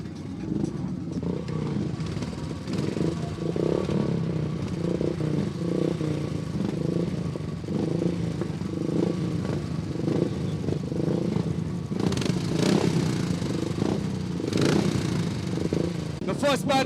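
Royal Enfield motorcycles lap a flat track on a practice run, their engines roaring and fading as groups pass, with clattering and crowd noise mixed in.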